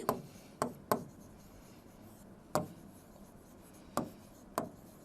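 Pen or pencil writing notes during a poetry lesson on The Tale of Custard the Dragon, heard as six short, sharp scratching strokes in an irregular rhythm. The strokes are close and moderately quiet, with no speech.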